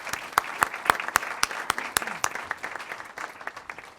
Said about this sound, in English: Let's give our contest winners another round of applause.